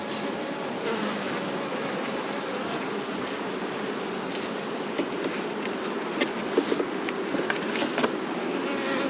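Honey bees swarm loudly over an open bottom brood box during a hive inspection, a thick unbroken drone close by, with a few sharper knocks and clicks toward the end and no voices.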